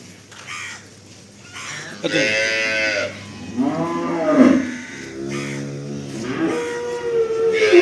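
A large dairy cow moos loudly and close by, with several long, drawn-out lowing calls, while crows caw in the background and someone talks.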